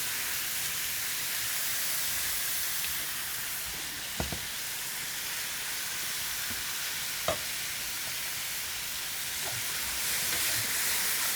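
Marinated beef sizzles steadily in a hot pan for bulgogi, a constant loud frying hiss. Two sharp clicks or scrapes stand out briefly, and no one speaks.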